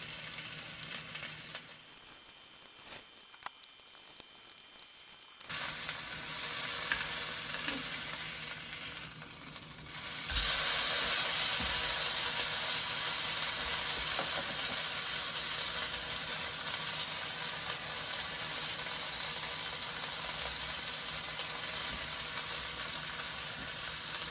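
Pork chops sear in a hot pan with a steady hissing sizzle that swells louder halfway through and stays constant and close, with faint clatters early on.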